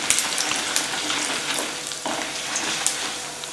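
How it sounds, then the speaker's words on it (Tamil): Cumin, mustard seeds and urad dal fry in hot oil as a tempering for mango rice, giving a steady close sizzle with scattered sharp crackles and pops throughout. "சீரகம், கடுகு, உளுத்தம்பருப்பும் போட்டுருங்க."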